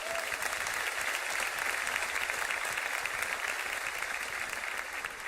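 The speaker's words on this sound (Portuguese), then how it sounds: "Você pode aplaudir ao Senhor?" A church congregation applauds steadily throughout, a dense, even wash of clapping from many hands filling the room with no break.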